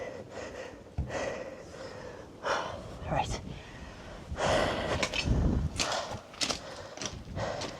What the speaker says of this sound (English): Sorry about the breathing and the panting.